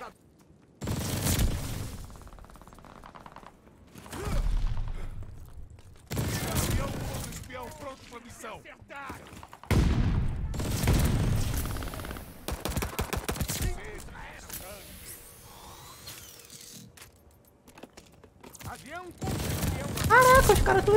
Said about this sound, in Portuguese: Doideira a cadência dessa arma aqui, mano.